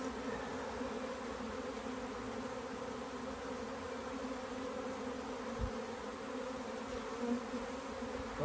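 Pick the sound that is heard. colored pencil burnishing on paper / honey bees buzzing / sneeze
honey bees buzzing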